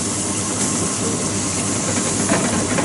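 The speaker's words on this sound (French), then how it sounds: "je vais déglacer avec de l'eau" Water hitting a hot roasting pan to deglaze it while meat juices cook down: a loud, steady hiss and sizzle throughout, close, with no talking.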